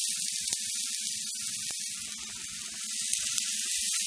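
Parmesan-crusted fish sizzling on a preheated T-Fal OptiGrill, a loud continuous hiss and crackle with scattered pops, close up and with no voices.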